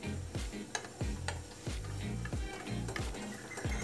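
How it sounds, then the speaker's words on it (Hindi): Homemade chocolate mixture of melted butter and powder stirred continuously in a pan, heard as rhythmic scraping knocks of a spoon against the pan over a faint sizzle, close and fairly quiet. "और हमको लगातार चलाते रहना है।"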